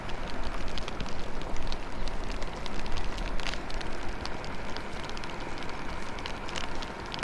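Heavy rain in a forest near Qiongkushitai village in Xinjiang, a dense steady patter of drops with occasional sharper hits, continuous and close, with no voices.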